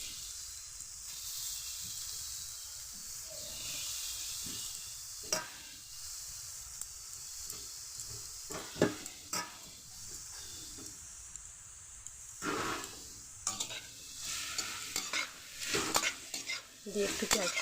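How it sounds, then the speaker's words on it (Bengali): Grated carrots sizzle in hot oil and ghee while a spoon stirs and scrapes the pan for carrot halwa. The frying hiss is soft and steady, broken by intermittent clinks and scrapes. "দিয়ে একটু ঘিয়ের সাথে এগুলো এবারে নেড়ে নেব।"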